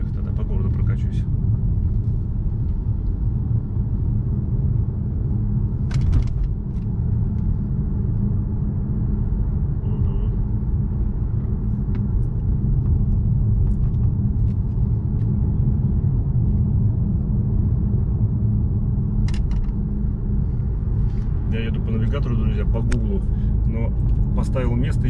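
Steady low rumble of a car's engine and road noise while driving through the streets of Sukhum, continuous and close inside the cabin, with someone talking over it.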